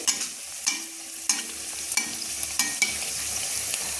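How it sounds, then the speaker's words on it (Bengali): Spinach puri deep-frying in hot oil: a steady, loud sizzle broken by regular splashy bursts as oil is spooned over it and it puffs up. "এবার আমি তেলটা একটু ছিটকে দিচ্ছি দেখুন কি সুন্দর ফুটবলের মতো দেখুন ফুলে গেছে"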